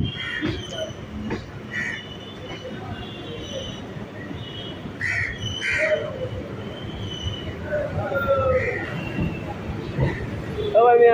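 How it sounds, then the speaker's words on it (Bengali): A Kolkata suburban local train pulls into Majerhat station on the Sealdah–BBD Bagh line, with rumbling wheels, rattling carriages and high squeals from the wheels that swell near the end as it brakes. "আর আমাদের ট্রেনটি এখন মাঝেরহাট স্টেশনে ঢুকছে।"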